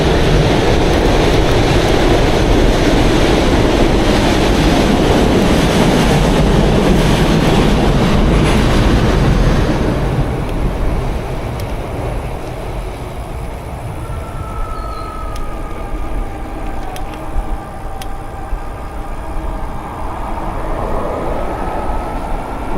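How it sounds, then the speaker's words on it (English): A Toronto Line 2 subway train roars past loudly on the Bloor Viaduct, a dense rushing rumble that drops off partway through, leaving quieter ambient noise with a faint distant whine. "The Line 2 train going by."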